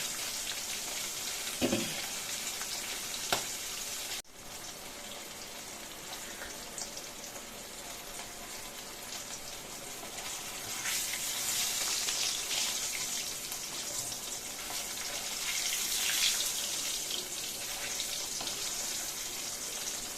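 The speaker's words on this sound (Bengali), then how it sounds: "ইলিশ মাছ বেশি ভাজা যাবে না, হালকা করে ভাজতে হবে।" Hilsa fish frying lightly in oil, a steady soft crackle and hiss running throughout at moderate level, with a brief sharper clatter near the start.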